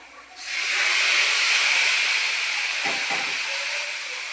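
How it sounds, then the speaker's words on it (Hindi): Hot tadka tempering hits a pot of kadhi with a sudden loud, bright sizzle that holds steady as a close hiss for several seconds, with a couple of brief low clunks partway through. "और अब इस पे लगा देती हूँ तड़का।"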